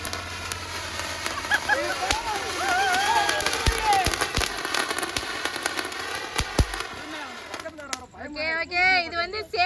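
Rapid strings of sharp Diwali firecracker pops and crackles burst close by for several seconds while voices talk and exclaim.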